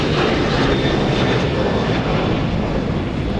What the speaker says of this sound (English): one final plane taking off there